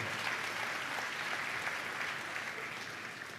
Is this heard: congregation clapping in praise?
yes